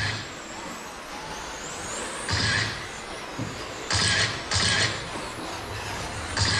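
Tamiya TA07 Pro radio-controlled touring cars with USGT bodies race around a track, their electric motors whining steadily with periodic louder bursts as cars pass close by, with no talk.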